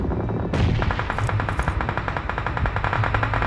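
Rapid video game gunfire, bursts of machine-gun fire crackling in fast repeated shots, loud and close, continuing almost without a break.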